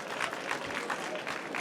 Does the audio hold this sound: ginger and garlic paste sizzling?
no